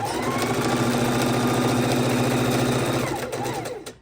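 A sewing machine stitches a border strip onto a pastel house quilt, running in a fast, even mechanical whir close by, then slowing and stopping near the end.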